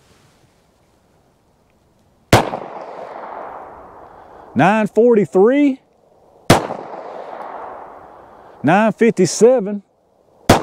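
Three shots from a .380 pistol firing Federal Hydra-Shok Deep rounds: two sharp, loud reports spaced several seconds apart, each followed by a decaying echo, with a third at the very end. Between shots a voice calls out speed numbers.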